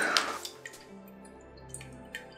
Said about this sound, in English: So our test worked. The water is flowing.